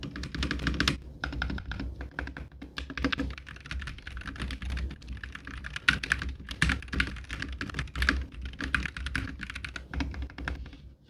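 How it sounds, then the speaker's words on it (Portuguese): Steady keystrokes on a MonsGeek FUN60 magnetic keyboard, a quick, irregular clatter of key presses running for about eleven seconds without pause, close and clear, with no voices. "está na média do som dos teclados magnéticos"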